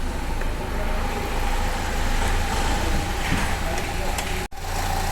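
A car engine runs steadily after starting, a continuous low mechanical drone with a brief dropout near the end, the vehicle recently repaired for a heater blowing cold air.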